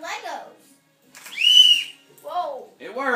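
A child blows a toy whistle in one short, shrill burst between bits of excited child chatter at close range.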